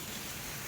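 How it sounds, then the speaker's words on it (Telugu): Summer rain falls on trees in a dense, steady patter that fills the whole moment evenly, with no talking. "వర్షం పడుతుంది"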